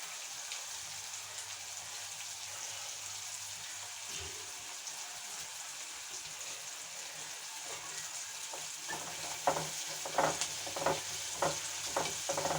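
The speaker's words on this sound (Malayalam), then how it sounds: "ഈ ഫ്ലെയിമിലിട്ട് പൊരിക്കാൻ നോക്കുക" Cauliflower frying in a pan over a flame, a steady soft sizzle throughout with a few sharper crackles and stirring clinks toward the end.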